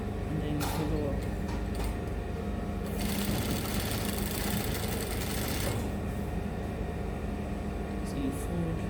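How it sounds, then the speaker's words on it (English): A sewing machine top stitches a pocket bag on culottes in a steady, continuous mechanical run close by, with a louder busier stretch in the middle. No one speaks over it. "Now you're top stitching top stitching it on the pocket bag"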